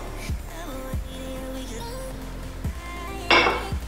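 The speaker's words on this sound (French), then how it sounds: "on mélange les ingrédients secs" A spoon mixes flour, sugar and flaxseed in a bowl, clinking and scraping against it in a few separate, ringing knocks and a brighter scrape near the end, close and clear.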